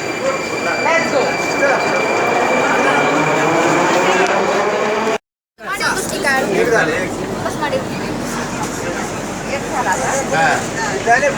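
Russian metro train pulling into an underground station, a loud close rush of wheels and carriages with squealing and rattling, briefly cut by a gap, then continuing with station echo and voices in the background.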